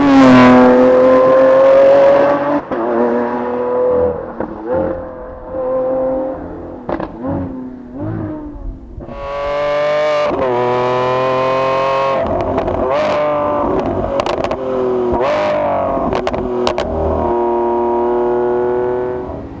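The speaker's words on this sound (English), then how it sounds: "And the shifts in crazy drivetrain mode, or Corsa, are just ridiculous." A 2020 Lamborghini Aventador SVJ Roadster with a 759 hp non-turbo engine in Corsa mode, loudly revving up through the gears with sharp shift breaks and rising pitch sweeps, then a long high scream, with no voices.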